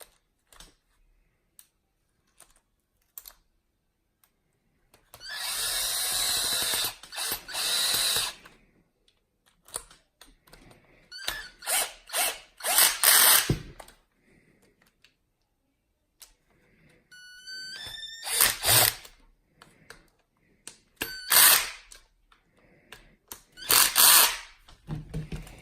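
A ratchet tightening bolts on a Losi 8ight RC car, heard as separate bursts of rapid clicking and whirring between stretches of silence, fairly close and loud.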